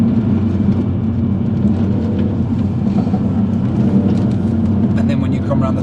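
Car engine during a drifting practice lap on a taxiway figure-of-eight course, a loud, steady drone with continuous road and tyre roar heard from close by, with talk mixed in.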